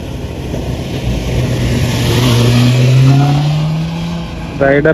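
A BMW car engine revs and accelerates, its rising drone loud and steady across the scene at a public fair in Kuwait, with crowd murmur and voices talking beneath it.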